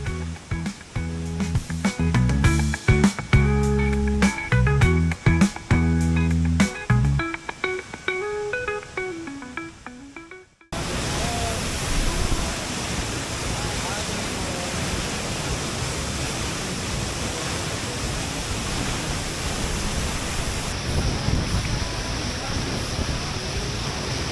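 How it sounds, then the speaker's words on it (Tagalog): Steady, dense roar of crashing water fills the second half after an abrupt cut from music, loud and continuous from nearby Ditumabo Mother Falls, its heavy fall throwing up mist. "dahil sa lakas ng bagsak ng tubig ng falls ay nakakagawa ito ng parang mga ambon"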